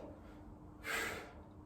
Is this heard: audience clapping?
no